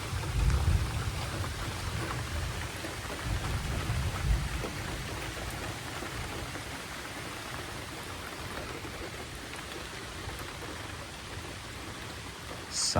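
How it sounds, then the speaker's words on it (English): Thunder rolls and rumbles low beneath steady rain during a rainstorm on Texas land, with the heaviest booms near the start and a constant hiss of rain throughout, no voices. "There's some thunder again."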